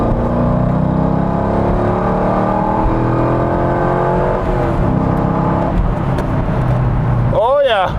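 A 2004 Chevrolet Corvette Z06 V8 pulls hard after a downshift, its engine note climbing in a loud, sustained rising drone heard from inside the car, with a person talking over it.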